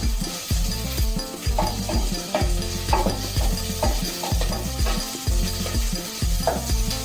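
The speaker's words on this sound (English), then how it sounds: "it has reached a point where the Germans say the onions have sweated" Onions sweat in a pan and are stirred, a loud, close sizzle with rhythmic scraping strokes, recorded while ugali wa wimbi, a Kenyan millet dish, is being prepared.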